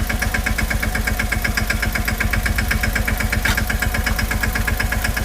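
A farm tractor engine runs steadily at a close, even idle-like pulse while pulling a pesticide sprayer through a field, its rhythmic chugging constant throughout with no talk.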